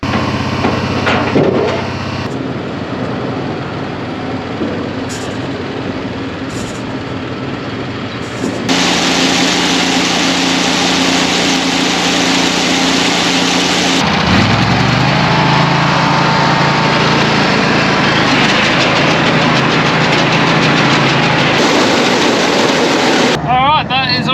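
Engine-driven grain auger loading barley seed and fertiliser into an air seeder on a farm, a steady mechanical drone that surges louder partway through and shifts pitch, with speech heard over it at times.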